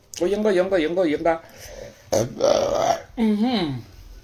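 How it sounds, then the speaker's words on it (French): Several drawn-out, croaking burps after eating, heard close up and loud, separated by short pauses. "Que je mange, je rote."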